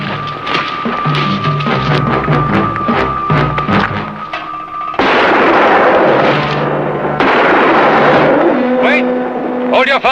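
Gunfire in a western TV series: loud shots and sharp impacts crack out amid dramatic music, with talk and shouting in the scene.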